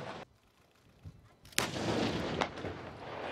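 An Army artillery gun fires at an outdoor centennial demonstration at Aberdeen Proving Ground, giving a sharp distant boom followed by a long rumbling roll and a second crack, heard from a spectator's distance.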